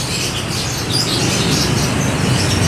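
Lovebirds and canaries chirping together in a bird shop, a dense, continuous wash of high twittering calls over steady background hum, loud and close with no talk.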